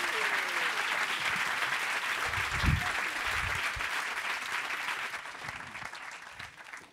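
Sustained audience applause at a tribute event on Martha's Vineyard, steady clapping from a room full of people that gradually fades toward the end.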